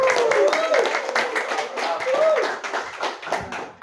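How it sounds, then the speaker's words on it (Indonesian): Hands clap for a speaker at a team leader meeting, a scattered, uneven patter of claps from a small group, with voices calling and cheering over it, fading toward the end. "tepuk tangan buat beliau"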